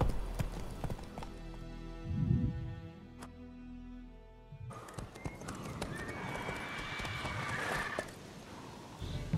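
The horse Roach gallops in The Witcher video game, with rhythmic hoof clip-clops, a whinny, and game music and ambience around them.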